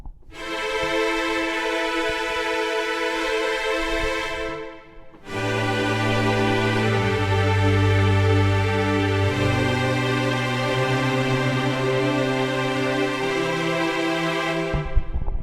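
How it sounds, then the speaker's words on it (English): A full string section holds long sustained chords, dense and steady, with a brief dip midway before the swelling harmony returns and rings to the end. "Full on strings sustained."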